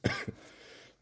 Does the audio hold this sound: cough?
yes